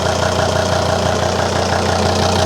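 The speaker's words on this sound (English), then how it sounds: "we've now got a normal idle again" A 2003 Volvo XC90 D5 diesel engine idles close up at a normal idle, a loud, steady low rumble with a faint rhythmic knock beneath it and no voices.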